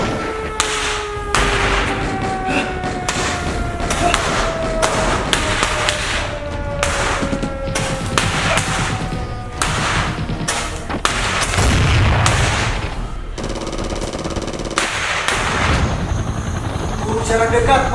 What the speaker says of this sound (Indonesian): Bom meledak oleh serangan udara oleh Angkatan Laut Republik Indonesia